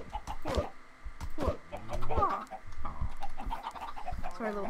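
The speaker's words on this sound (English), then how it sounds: "Sorry, little baby chicken." Chickens cluck repeatedly in the Minecraft video game, short close squawks and clucks in an irregular rhythm, with a voice talking over them.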